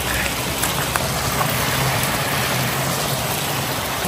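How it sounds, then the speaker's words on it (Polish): Heavy rain falls outdoors near a stream, a dense, steady hiss at constant loudness with no voices. "Te deszcze się już nasiliły."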